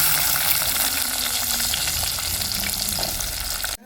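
Small onions hit hot oil for a tempering, giving a loud, steady sizzle that fills the whole stretch and ends abruptly.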